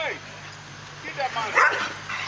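Dogs bark and yip sharply in a home amid lively family voices, the barks fairly close and rising over steady background chatter.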